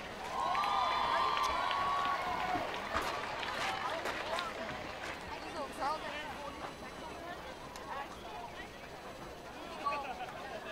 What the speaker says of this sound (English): Let's give a big round of applause for all our queen candidates.